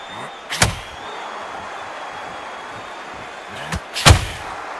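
Heavy punches land in the Undisputed boxing video game during a Usyk versus Ali bout: one booming thud early on, then a lighter hit and another hard impact a few seconds later, over a steady arena-like hum.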